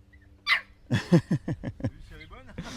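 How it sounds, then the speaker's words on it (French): A guard dog barks as an alarm in a quick series of short, rising woofs, close and fairly loud, ending in a whine-like yip. "C'est le chien de garde qui fait en même temps alarme."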